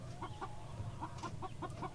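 American Bresse chickens cluck on pasture in a steady run of soft, evenly spaced calls, close by and fairly quiet, with no talking.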